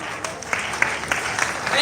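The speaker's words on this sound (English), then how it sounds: "Another round of applause for Group D for that electrifying performance." An audience at an induction ceremony in Owerri claps steadily, a sustained patter of applause that swells slightly at the end, with a voice briefly audible beneath it.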